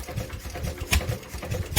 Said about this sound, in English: that engine right there It is the same category as Martin's engine that's sitting over there running.